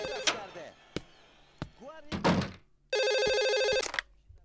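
A telephone rings with one long, loud electronic trill after a series of knocks and clunks in a military command room, with a voice heard briefly nearby.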